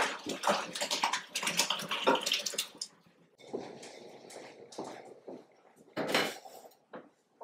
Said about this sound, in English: I'm just going to go ahead and pour that right in my colander.